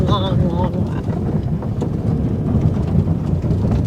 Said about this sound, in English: And we got storms, which also hasn't happened in a while, huh?